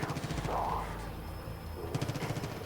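Distant rapid gunfire rattles from a firing range in Far Cry 5, a soft fast-repeating stutter in two short runs under a low ambient bed.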